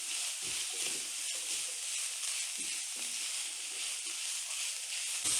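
Vegetables for samosa filling sizzle in a hot pan with a steady bright hiss, broken by occasional soft stirring thumps.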